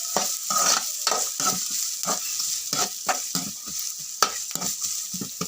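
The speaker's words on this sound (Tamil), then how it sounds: "வெங்காயம் போட்டு கிளறி விடணும்." Onions being stirred and fried in a pan for a Tamil capsicum poriyal: a steady sizzle with repeated scraping strokes of a spatula against the pan, close and clear, with no talk.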